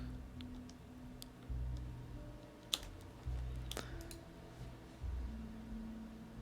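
Typing on a computer keyboard, a few scattered soft key clicks and taps at a quiet, unhurried pace over a low background hum.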